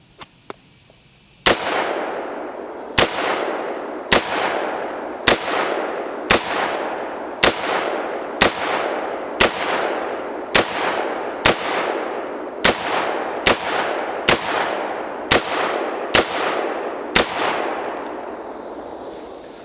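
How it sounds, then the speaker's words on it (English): Gunshots fired from a shotgun into a car's trunk and spoiler ring out one after another, about fifteen sharp, loud reports spaced roughly a second apart, each followed by a short ringing decay. "I will be shooting through the spoiler on this one"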